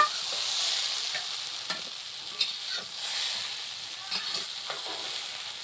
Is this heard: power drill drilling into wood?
no